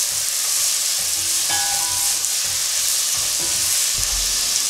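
Mixed vegetables hiss and sizzle steadily in a hot pan, a loud continuous frying crackle with a few soft stirring knocks and no voices.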